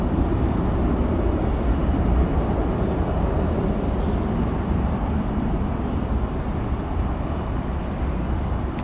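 A heavy jet airliner takes off from a runway with a continuous, loud broadband engine roar that stays dense and steady throughout, with no voices over it.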